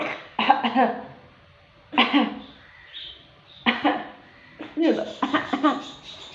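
A sick child, worn out after two days of illness, coughs in several close, harsh bursts spread across the moment, with short pauses between the fits.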